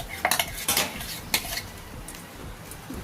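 Metal spoon stirring mango paste into semolina in a pan, a few quick scraping clinks and knocks in short bursts, then a softer ongoing shuffle, close and alone.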